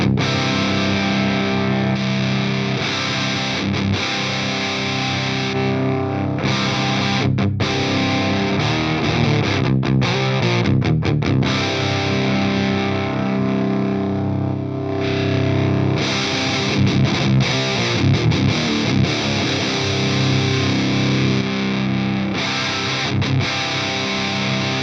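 Heavily distorted electric guitar played through the orange channel of a Mesa Rectifier amp, a thick, loud, continuous wall of saturated chords and riffs with no pauses and no talking.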